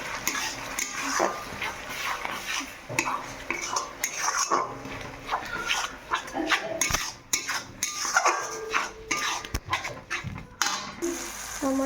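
A metal spoon scrapes and clinks steadily against a pan while stirring masala with ginger-garlic-tomato paste, rhythmic close-up scraping with occasional sharper knocks, no talk.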